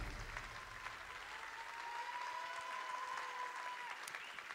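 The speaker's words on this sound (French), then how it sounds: "Vous pouvez l'applaudir." Warm applause from the audience at a Charente economic awards evening, a continuous even patter of many hands clapping, moderately distant and soft, with a faint tone and murmur beneath.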